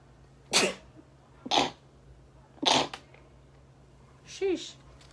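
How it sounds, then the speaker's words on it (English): Three sharp sneezes burst out about a second apart, close and loud, followed by a short exhale or sigh with a bit of voice. "I sneezed 3 times."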